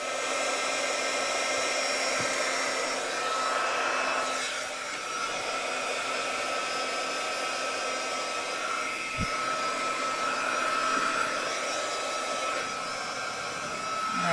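A Nicole brand heat tool blows hot air in a steady, loud, close roar that holds for the whole stretch with only slight dips in level.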